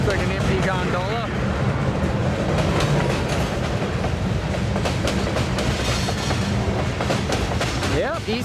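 Eastbound CN mixed freight train rolling through Cedar Falls Junction in Iowa, a loud sustained rumble with rhythmic clickety-clack of wagons and brief wheel squeals, with voices talking over it.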